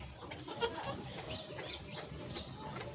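Goats bleat softly a few times on a farm in rural Gujarat, with a clearer call near the start over steady outdoor background noise.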